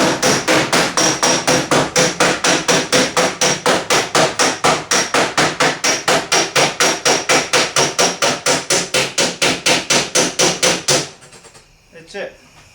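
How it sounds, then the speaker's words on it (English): A hammer strikes sheet metal backed by a dolly while restoring a 1979 Trans Am body panel, ringing out in a fast, steady run of loud blows for about eleven seconds before stopping. "hear that ringing when I'm hitting it"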